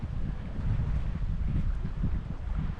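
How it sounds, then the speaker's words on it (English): Steady wind roars and buffets a microphone outdoors on a clay riverbank by a windbreak, a dense low rumble with gusty swells throughout. "See how windy it is out that way."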